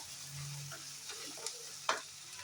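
Curry leaves and onions frying in oil for avalakki chitranna, a soft steady sizzle with a couple of sharper spatula scrapes near the end.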